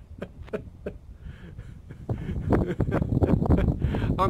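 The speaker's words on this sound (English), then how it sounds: "I'm going to head inside now, because it's very, very windy" Strong outdoor wind buffets the microphone in low rumbling gusts, growing louder and more continuous in the second half, with a few faint rustles and no speech.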